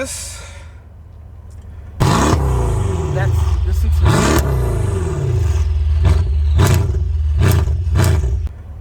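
A Mercedes-Benz E63 AMG S engine barks to life after a brief spoken word, then roars through repeated sharp, loud revs with crackling pops between each blip, close and dominant.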